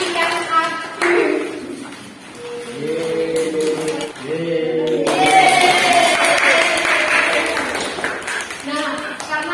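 Classroom applause for a student, with scattered hand claps and taps over a teacher's voice, moderately near and fairly loud, rising and fading through the room.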